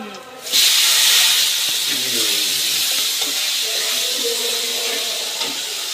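Lentils fry with browned onions in a pan for dal bhuna, starting with a sudden loud hiss that settles into a steady, close sizzle lasting several seconds, with no clear talk.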